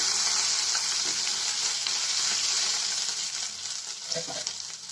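Crushed ginger and green chilli sauté in a hot pan for a wheat adai, giving a steady, close sizzle and crackle that eases slightly near the end, with a few light stirring clinks.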